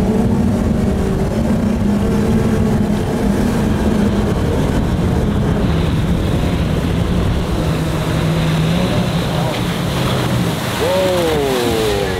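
A Brabus motorboat runs fast across open water, a steady loud engine drone and rushing hull and water noise close up, with a brief voice over it.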